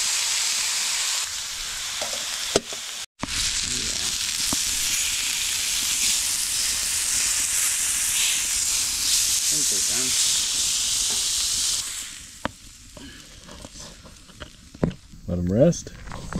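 Tomato soup heats in a pan outdoors with a steady, loud hiss and sizzle that runs for most of the time before easing off, with people talking over it.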